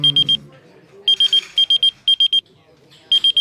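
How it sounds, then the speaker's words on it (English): A shrill electronic fire alarm beeps in rapid groups of high-pitched pulses, pausing briefly between bursts, with a faint voice underneath. "A fire alarm."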